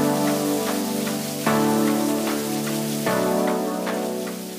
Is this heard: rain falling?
yes